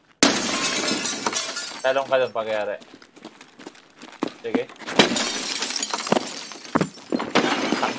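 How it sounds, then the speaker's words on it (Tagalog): Glass window shattering under gunfire in the Escape from Tarkov video game, a short burst of breaking and tinkling shards close by amid gunshots, footsteps and clatter, with people talking over it. "Tapos barilin mo yung salamin sa left."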